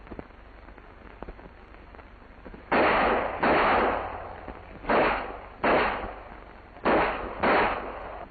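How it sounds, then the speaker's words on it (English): Pistol gunfire during wartime combat commando training, a series of six loud sharp shots in uneven pairs, each with a brief ringing echo, fired close by. "hear those bullets whizzing by your ears"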